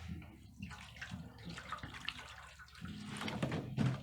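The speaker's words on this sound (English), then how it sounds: "So we want to cover the feet with really, really warm water" Really warm water running and splashing into a pan for a foot soak, a soft continuous pour that gets fuller and louder toward the end, with no talking.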